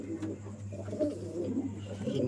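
A sick pigeon chick, unwell after getting soaked in rain, coos softly and steadily nearby under a low background hum, with faint voices at times.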